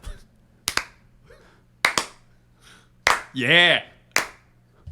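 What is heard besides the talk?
hand clapping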